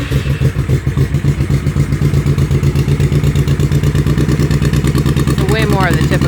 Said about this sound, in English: So way more of the typical throaty V-twin presence that you might like to have.